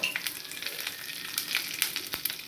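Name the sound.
cumin, dried red chilies and garlic frying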